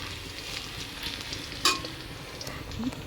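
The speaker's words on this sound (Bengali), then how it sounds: "এখানে একটু ভাজা ভাজা, রসুনটা একটু ভাজা ভাজা করে ডালটা ঢেলে দেবো" Garlic frying in oil for a dal tempering gives a steady, close sizzle with a single sharp utensil clank near the middle; no one speaks.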